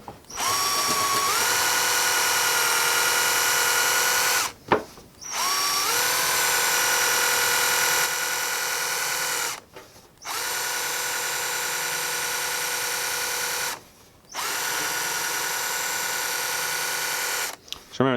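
A disc cleaning machine runs in long, loud, steady motor whirs of three to five seconds each, broken by brief pauses. A voice talks over parts of it.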